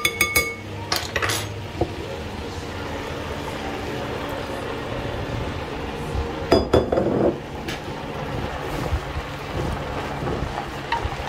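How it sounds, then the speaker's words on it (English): Sauerkraut tipped into a pot of Polish bigos (hunter's stew) in a home kitchen, giving a wet rustle with scattered metallic clinks of utensils against the pot and one louder clattering burst midway, over steady background noise. "in goes the sauerkraut"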